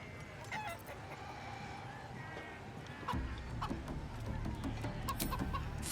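Chicken clucking in Baldur's Gate III, a few short clucks and squawks over low game ambience, with a rumbling bed joining partway through.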